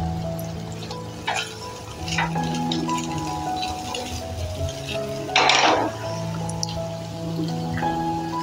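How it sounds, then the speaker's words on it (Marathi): Healthy sheera is stirred in a pan once the lid is lifted. A spoon makes soft scraping and clinking sounds with scattered drip-like taps, and one louder scrape stands out midway. "2 मिनिटानंतर आपण झाकण काढून व्यवस्थित मिक्स करून घेऊया."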